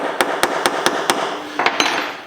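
A small hammer taps a push pin tool against a wristwatch during a cheap repair kit job: five evenly spaced sharp metallic taps, then a few quicker, lighter ones, close and crisp over faint background noise.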